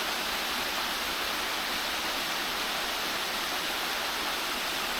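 The Folly Dolly waterfall and its river pour in a dense, steady rush of white water that is constant and fairly loud throughout, with no voices.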